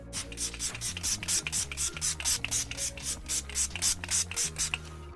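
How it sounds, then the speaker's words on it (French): Makeup setting spray misted from a pump bottle in short, sharp hissing bursts, roughly a dozen quick sprays in steady rhythm, close and fairly loud over a low background tone. "je vais mettre un petit peu de spray fixateur"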